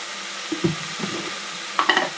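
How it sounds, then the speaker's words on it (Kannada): Tomatoes with peas cooking down in a pan for tomato rice, with a few soft stirring scrapes and light sizzling over a steady low hiss. "ಈ ಟೊಮೊಟೊ ಸ್ಮ್ಯಾಶ್ ಆಗೋವರೆಗೂ ಬೇಯಿಸ್ಬೇಕು"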